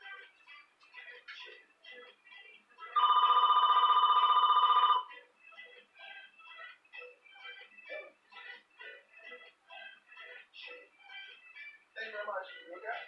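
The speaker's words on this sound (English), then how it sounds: "Uh-oh, phone's ringing." A telephone rings once in a single sustained electronic burst of about two seconds, loud and close, with someone speaking before and after it.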